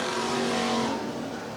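IMCA stock cars and super stocks at USA Raceway roar together as the green flag flies on a restart, a dense, loud wall of engine noise swelling and then holding steady, with no talk in the moment.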